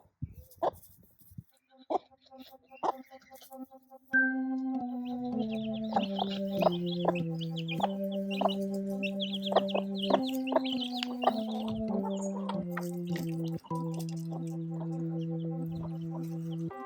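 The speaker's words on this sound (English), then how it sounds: "Now we can often tell a broody hen before she even starts setting, just by her voice. It's a certain kind of motherly cluck." A broody mother hen gives a low, repeated motherly clucking, close and clear, in a steady run of soft murmuring calls with faint bird chatter behind.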